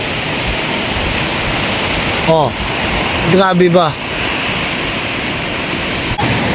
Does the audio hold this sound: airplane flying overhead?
no